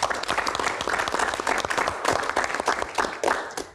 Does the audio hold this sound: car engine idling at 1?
no